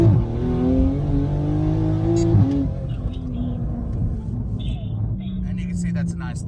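A 720 wheel-horsepower Toyota Supra GR pulls from a roll around 40, its engine droning loudly with a steady rising tone before easing off, as a voice talks over the cabin noise.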